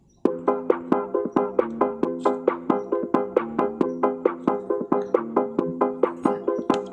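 Electronic DJ remix dance music with a punchy, steady beat and repeating synth stabs plays continuously, fairly loud and without vocals.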